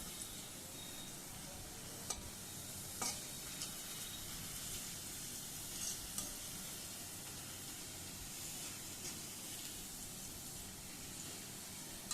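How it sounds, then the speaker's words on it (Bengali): A faint, steady sizzle of ghee heating in a wok, with a few soft ticks and pops scattered through the quiet hiss. "আমি কড়াইতে ঘিটা খুব ভালো করে জাল করে নিচ্ছি বাসন্তী পোলার জন্য।"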